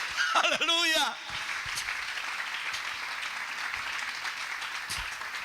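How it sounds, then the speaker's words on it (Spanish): Congregation applause fills a Spanish-language church service, a broad steady clapping that follows a preacher's voice and continues for several seconds after his speech ends. "Le vamos a regalar una ofrenda de palmas al Dios de la gloria."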